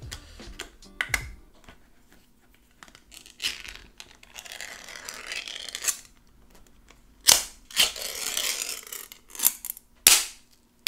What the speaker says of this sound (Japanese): それではちょっと開封していきます。